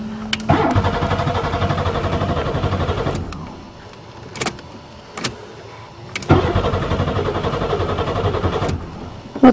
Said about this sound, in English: It started perfect after it sat a few years.